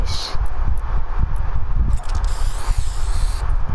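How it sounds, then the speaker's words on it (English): An aerosol spray paint can hisses in steady, continuous bursts close by, with a broad airy rush running through the whole stretch and no talking over it. "I'm gonna spray paint this haunted place."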